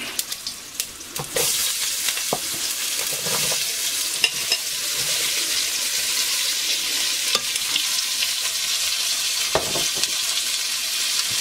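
Onions and chillies fry in hot oil in a pan for an Indian-style egg curry, a loud continuous sizzle broken by clattering stirs and knocks of a utensil.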